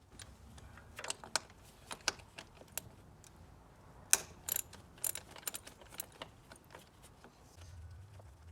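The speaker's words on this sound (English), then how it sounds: "Use a plier to remove the clamp and 12mm to remove those two bolts." A ratchet wrench loosens 12mm bolts on a Nissan Juke engine, giving irregular sharp metallic clicks and ticks in quick bursts, close and fairly faint over a low background hum.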